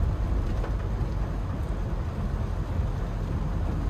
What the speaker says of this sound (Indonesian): Tapi hujannya ini. Hujan.